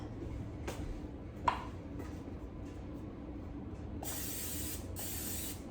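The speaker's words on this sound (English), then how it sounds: "Spray that out and do it again." Cooking spray is sprayed into a pan for a pressure cooker pumpkin cheesecake, with two short, sharp hissing bursts near the end following a few faint clicks and rattles over a low hum.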